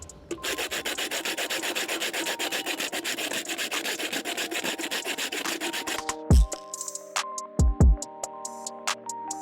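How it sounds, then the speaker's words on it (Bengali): Sandpaper rubs back and forth over a metal can, a steady rasping scrape for about six seconds, followed by a few sharp clattering knocks. "প্রথমে আমরা ক্যানটাকে স্যান্ড পেপারের সাহায্যে ঘষে নিব।"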